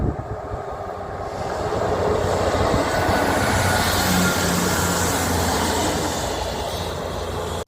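A Class 158 diesel multiple unit, 158 882, running from Southampton Central to Salisbury, passes close by with a rising rumble and rattle that holds steady for several seconds, then eases slightly, with no talking.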